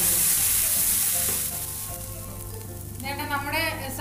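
Onion sizzles and sautés in a hot pan for an egg perattu, a loud steady frying hiss with light stirring, growing bubblier toward the end, with no voices.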